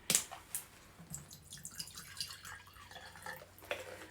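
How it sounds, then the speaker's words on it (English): Water trickles and drips into paint in a glass jam jar, a few quiet splashy pours and droplets close by, faint and sparse with no talking. "And then I'm going to add some water."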